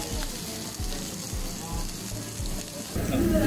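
Thick slices of samgyeopsal pork belly sizzle on a grill in a steady, moderate hiss, with muffled voices and low knocking underneath and a louder burst near the end.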